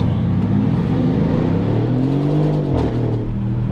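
Mercedes-AMG ML63 SUV pulling hard in first gear, a loud close engine roar climbing steadily in pitch over several seconds with a slight dip near the end, no talking.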